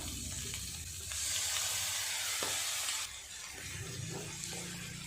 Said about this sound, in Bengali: কাঁকড়াগুলো পেঁয়াজের সাথে ভালোভাবে ভাজা হয়ে গেছে।